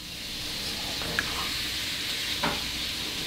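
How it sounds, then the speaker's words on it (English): Butter sizzles softly in a pot with a steady low hiss, and a couple of faint stirring scrapes cut through it while it melts for one-pot garlic shrimp and rice. "You got a little bit of butter there. You stir it up till it's all melted."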